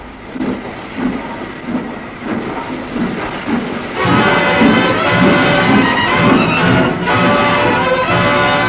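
A train rumbles and clatters steadily up close, growing louder and denser partway through, with faint high squeals over the continuous roar.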